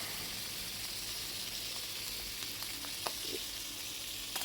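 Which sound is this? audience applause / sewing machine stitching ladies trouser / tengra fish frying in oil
tengra fish frying in oil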